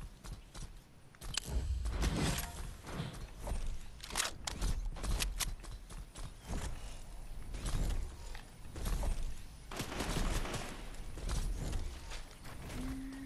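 Video game gunfire rings out in scattered sharp shots and short bursts, fairly close and loud over a busy background of game noise.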